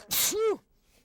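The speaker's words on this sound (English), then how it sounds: "I'm going to sneeze there for a second" A single close, loud sneeze bursts out sharply, then trails off into near silence.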